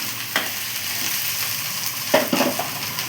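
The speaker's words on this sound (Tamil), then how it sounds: "கத்திரிக்காய் போடலாம் அதையும் நல்லா வதக்கி விட்டுக்கலாம்" Brinjal sautéing in a pan for avial gives a continuous sizzle with a few scraping stirs and spoon knocks near the end, close and fairly loud, with no talking.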